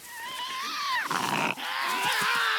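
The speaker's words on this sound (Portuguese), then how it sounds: "Quando a situação se intensifica, começa o rosnado." Tasmanian devil giving a harsh, tonal growl that rises and wavers, close and fairly loud, with a rougher noisy burst in the middle before the drawn-out moaning tone resumes.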